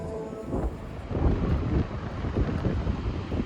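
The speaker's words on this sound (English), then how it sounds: "Oh, that's a strong wind coming off Lake Erie." Strong wind gusting in off Lake Erie at an amusement park on a cold day, a steady roaring rumble buffeting the microphone with surging gusts throughout and no speech.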